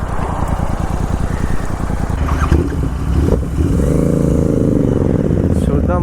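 A GT650 motorcycle engine rumbles loudly and steadily up close while being ridden, with a rising rev toward the end as it accelerates, its throb and some clatter filling the whole stretch.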